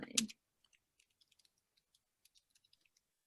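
Typing in a chat on a computer keyboard, a short burst of sparse, quiet key clicks in an uneven rhythm after a brief louder noise at the start.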